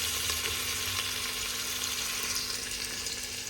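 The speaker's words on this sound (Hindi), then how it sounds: "और इसमें डालेंगे प्याज।" Onions frying in hot oil with bay leaf and cumin in a pressure cooker make a steady, dense sizzle throughout, close and fairly loud, with no voices.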